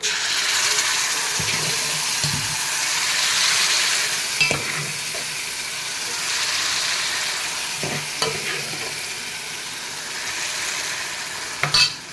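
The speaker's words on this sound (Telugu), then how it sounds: "కాసేపు వేసేసిన తర్వాత ఫ్రై చేద్దాం ఒక టూ మినిట్స్" Tempering for gongura pulusu fries in a pan with a constant close sizzle, punctuated by several sharp spoon clicks and scrapes against the metal, and no speech.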